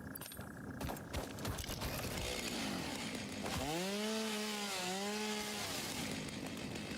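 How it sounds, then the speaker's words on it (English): A video game chainsaw cuts down a tree in a factory-building game, a loud buzzing whine that rises and wavers for a few seconds over background clatter, with no talking. "I'll take out one of these, one of these trees with a chainsaw."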